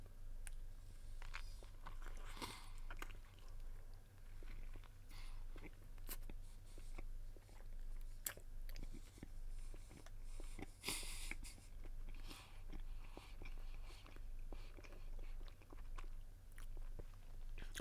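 Quiet chewing of a chocolate treat with a marshmallow and coconut coating, soft repeated mouth sounds over a steady low hum, with a few faint crunches.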